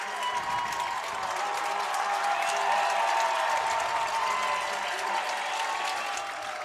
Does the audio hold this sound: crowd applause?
yes